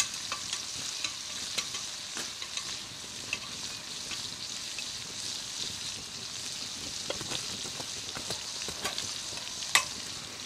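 Salmon cooks over a couple of hardwood coals at a rustic log cabin hunting camp, giving a steady soft sizzle and crackle throughout with scattered sharp pops, close by and unbroken by talk.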